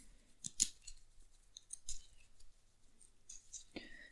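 A deck of game cards being reshuffled during a solo card game, with quick crisp riffling and snapping bursts at close range, irregular and brief, alone without talk.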